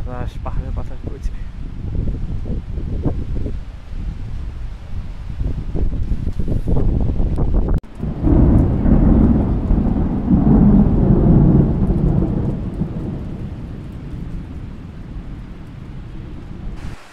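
Thunder rolls over rain in the hills of Bandarban, a deep rumble swelling midway and fading, while a steady rain hiss and gusts of wind fill the background.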